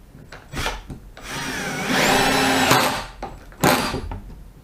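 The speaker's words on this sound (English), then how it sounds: "We're on screwdriver mode, we're on torque setting 1, so let's see how easy these drive in" A cordless drill driver set to screwdriver mode at its lowest torque setting drives Reisser Cutter woodscrews into wood, giving a couple of short whirring bursts and one longer sustained drive, close and moderately loud.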